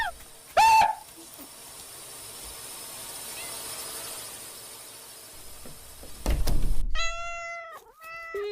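Cartoonish cat meows in a cat cafe video game, a short high mew near the start and a wavering series of meows at the end, over a quiet bed of game sound and a dull thump.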